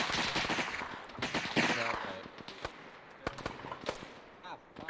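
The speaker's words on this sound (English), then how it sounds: "Danger close, shooting at us." Sharp gunshots and bursts in a multiplayer war video game, scattered irregular cracks of varying loudness mixed with faint voice chatter and other battle noise.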